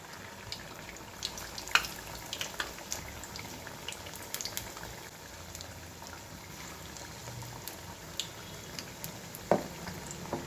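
Bajji batter made with bachali kura fries in hot oil on a stove. It gives a faint, steady sizzle with scattered soft crackles and pops throughout.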